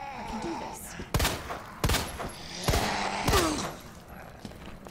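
Gunfire in Resident Evil 2 on Xbox One X aimed at a zombie: four loud, sharp shots spaced roughly a second apart, standing out over a low ambient game background.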